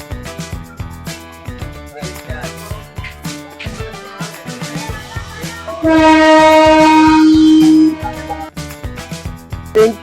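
The Probal Express pulls away from Dohazari railway station at night, bound for Cox's Bazar, with rumbling wheels and clanks, then a loud, sustained horn blast lasting about two seconds before the rolling noise resumes.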